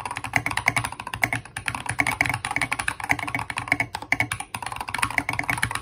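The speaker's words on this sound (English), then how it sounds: "Here's a fun sound test of one of the keyboards I built in 2020." Steady, brisk typing on a custom-built mechanical keyboard, with crisp, clicky keystrokes in a quick, continuous rhythm, heard close and alone.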